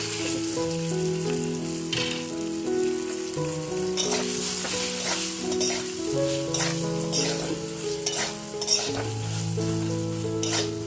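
Eggplant fries in a little oil with a continuous close sizzle and occasional stirring scrapes, while music plays in the background.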